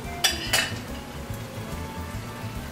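Very lean ground beef hits a hot pan with two quick clanks and flares of sizzle, then settles into a low, steady frying crackle up close, no one talking.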